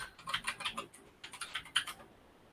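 Keys clatter on a computer keyboard in two quick bursts of typing with a brief pause between, close and fairly quiet.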